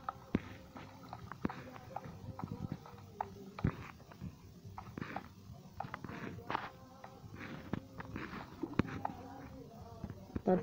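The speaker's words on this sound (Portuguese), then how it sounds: "Opa, gostei agora desse cavalo aqui." A horse walks in Minecraft, its hooves giving quiet, irregular clip-clop steps throughout, mixed with other game sounds and occasional soft talking over them.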